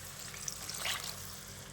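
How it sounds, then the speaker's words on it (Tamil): A brief trickle of water poured into a cooking pan of dry fish curry over a wood-fired stove, soft and close, over a steady low background hum. "நம்ம ஒரு அரை டம்ளர் தண்ணி சேர்த்துக்கலாம்"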